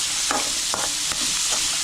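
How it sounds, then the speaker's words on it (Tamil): Onions and carrot sautéing in a pan for carrot chutney, a steady close sizzle with a few spoon stirs scraping through it, no talk. "ஒரு நிமிஷம் வெங்காயமும் கேரட்டும் நல்லா வதங்கணும்."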